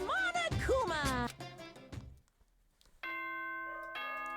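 Chime from the video game Danganronpa: after a stretch of voiced talk, a sustained multi-tone announcement chime sounds clearly, holding steady for over a second with a brief change partway through.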